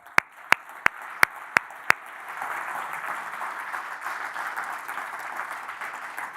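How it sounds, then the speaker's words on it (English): A handful of sharp, evenly spaced claps start off, then a full audience bursts into sustained, dense applause welcoming a speaker onto a keynote stage, loud and steady through to the end. "So we're going to introduce him again with applause"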